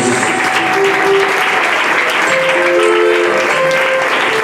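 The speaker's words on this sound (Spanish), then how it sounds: "hacer mejor aplauso a Cristo Jesús" Church congregation at a Pentecostal service applauding loudly and continuously, a dense wash of clapping filling the room with faint tones and voices mixed in behind it.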